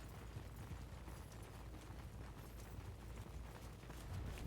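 Horse hooves clip-clop steadily in a medieval infantry strategy game, a soft continuous patter blended with low rumbling battle ambience, with no voices over it.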